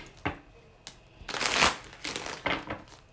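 Tarot cards being shuffled by hand, close up, in three or four quick riffling bursts with short pauses between them, the longest and loudest rush in the middle, and no talking.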